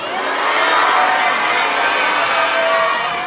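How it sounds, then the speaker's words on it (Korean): An audience at an outdoor forest concert gives dense, continuous applause that holds at a steady level for a few seconds, with no talking over it. "박수 보내주세요"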